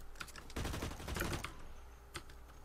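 Rapid automatic gunfire from the online shooter Blacklight Retribution, a dense burst of shots for about a second, then a few scattered shots and one last crack, loud and close.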